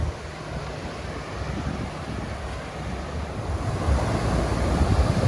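Strong ocean surf breaking steadily on a Florida beach at Smyrna Dunes Park near Ponce Inlet, a continuous loud roar of waves with wind buffeting the microphone, swelling louder near the end.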